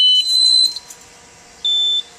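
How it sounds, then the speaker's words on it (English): Boat ignition warning alarms beeping right after the key is turned on: loud, close electronic tones, one long beep, a short chirp, then another steady beep after a brief gap. "you'll turn the boat key to the on position, and you'll hear a bunch of alarms"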